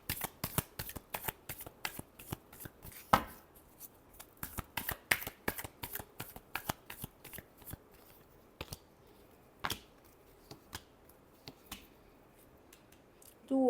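Tarot cards being shuffled close up, a quick series of crisp riffling bursts with sharp slaps and brief pauses between them, then a last few isolated flicks.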